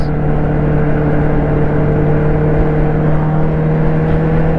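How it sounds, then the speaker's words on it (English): A Volkswagen Golf R passes on a road, heard as a steady, loud engine whir and low rumble with continuous road noise throughout, close by and without speech. "Another Golf R, my nemesis."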